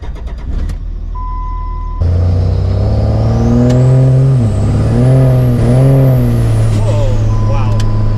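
A powerful car, capable of 0-60 mph in 3.9 seconds, idles and then accelerates hard on the road, its loud engine rising and falling through several surging gear pulls close to the listener.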